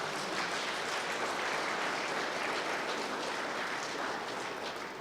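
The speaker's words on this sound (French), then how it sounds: "give the Lord a round of applause" A church congregation applauds during a service, a steady, full wash of many hands clapping that holds evenly from start to finish with no voices over it.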